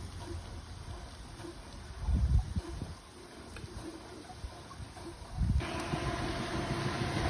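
A Burrell one-third scale steam traction engine ticks over, giving faint, soft chuffs at an irregular pace against quiet outdoor background, with two louder puffs standing out.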